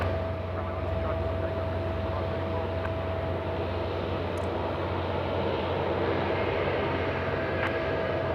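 An airliner takes off from runway 16 right at Sydney Airport, a steady, distant jet engine roar with a constant low drone and faint hum, even in level throughout, no voices over it.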